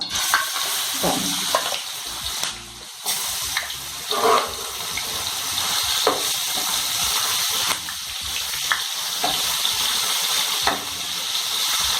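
Chicken pieces, two or three at a time, frying in oil for a fried chicken gravy, making a loud, close, continuous bubbling sizzle with occasional stirring bumps and no speech.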